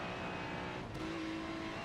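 Ferrari race car engine in a racing video game at the Nurburgring 24h, a steady droning engine note held throughout with a faint tonal whine emerging midway, no voices.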